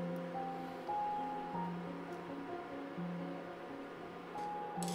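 Glutinous rice ball dumplings boil in a pot of water over medium-high heat, giving a steady, moderately loud bubbling rush with a faint background hum throughout.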